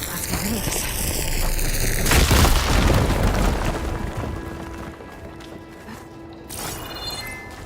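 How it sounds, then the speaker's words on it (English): A fire gleam deposit blows up in Horizon Forbidden West with a loud, broad boom about two seconds in, then a rumbling tail that fades under ambient game sound, tonal hums and a later rising shimmer. "Should be able to blow up that fire gleam."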